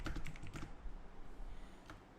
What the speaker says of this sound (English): now I'm just typing that my booking ID is